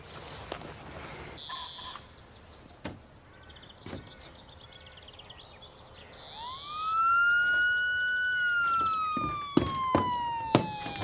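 A police car siren rises into a loud, sustained wail that sweeps slowly downward, set in a rural farm scene with a horse nearby, with scattered knocks and rustles before it.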